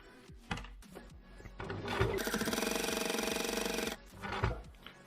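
A sewing machine stitches the flap of a double-layer fabric face mask in one steady, rapid burst of about two seconds, framed by soft handling clicks and fabric rustling.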